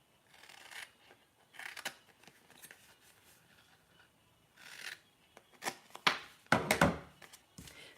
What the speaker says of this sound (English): I'm just going to get my scissors